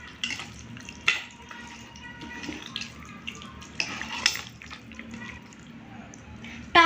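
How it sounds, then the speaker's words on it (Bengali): Goat meat being worked together with sour yogurt by hand in a kitchen, giving soft wet squelching and mixing sounds with occasional clinks of a bowl or utensil, close and fairly quiet, with no talking. "এখন আমি এটার মধ্যে দিয়ে দিচ্ছি দই, টক দই। এখন আমি সুন্দর করে মেখে নেব।"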